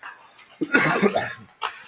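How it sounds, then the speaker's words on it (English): A single short cough, close and fairly loud, preceded and followed by brief breathy vocal noises. "I'm just going to cough for a second"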